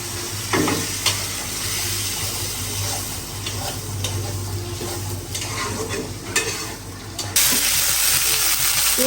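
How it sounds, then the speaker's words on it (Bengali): Vegetables frying in a pan with a steady, close sizzle and occasional stirring scrapes, ending in a louder burst of sizzling. "এখন আমি ভাজি করতেছি"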